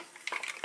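Shellfish tumble into a cooking pan with a few quick light clinks and rattles of shells against metal, brief and close.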